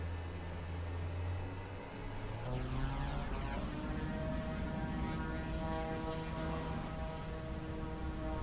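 A De Havilland DHC-6 Twin Otter taxis in Flight Simulator, its twin propellers droning steadily with a shifting pitch as the engine power changes.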